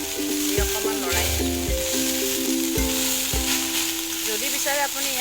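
Leftover rice and onions sizzle in a pan as a spatula stirs and scrapes in several distinct strokes against a steady frying hiss.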